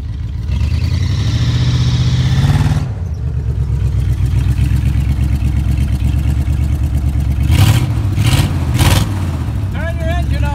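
A car engine idles with a deep steady rumble, revs up, drops, then throbs through several sharp revving bursts; a voice speaks near the end.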